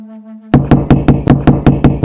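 Seven or eight sharp, evenly spaced knocks on a house door ring out loud and close, following a brief sustained tone, in an animated Hindi story.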